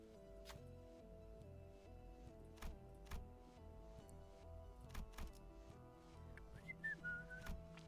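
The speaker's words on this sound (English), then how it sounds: "Whistling." Whistling from the video game Limbus Company, a short melodic tune heard faintly over a quiet game soundtrack with soft percussive ticks and effects.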